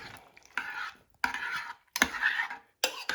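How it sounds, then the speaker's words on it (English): Spoon stirring chili in a slow cooker pot, four separate bursts of scraping and clinking against the sides, close and fairly quiet with brief pauses between strokes. "I'm going to stir this up a little bit."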